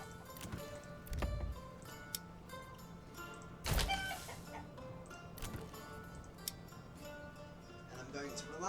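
Chickens cluck in the medieval city-building game Manor Lords, with scattered short calls over a busy village ambience and a few louder thumps, fairly close.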